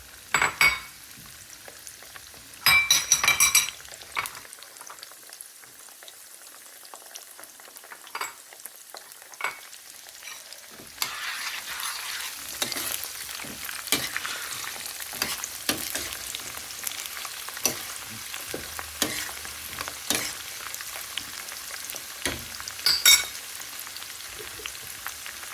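Garlic sizzles and fries in hot oil in a pan while making tomato pickle, a steady close crackle with brief stirring clatters, growing louder and denser partway through.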